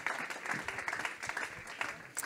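Conference audience at a presidents' meeting applauds a speaker, a brief wash of many hands clapping at moderate distance, fairly quiet, with a voice briefly over it.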